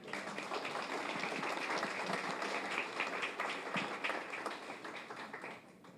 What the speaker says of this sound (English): I would like us to please give him more applause, please.